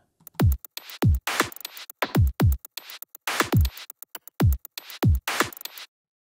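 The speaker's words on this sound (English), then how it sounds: "which is a fantastic little drum VST that um, sounds like this when you run it" A punchy programmed drum beat from a drum VST plugin plays alone, steady kicks and snares with quick hi-hat ticks in a looping groove.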